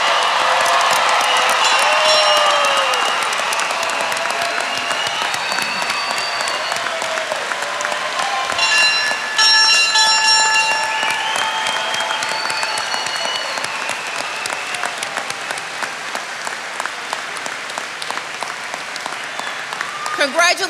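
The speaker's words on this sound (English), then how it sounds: "Let's give all of our graduates a round of applause." A large graduation audience applauds continuously for the graduating class, a dense, loud wash of clapping with some cheering and voices mixed in, sustained steadily throughout.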